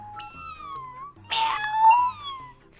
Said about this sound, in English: It was Luna's meow, my kitty.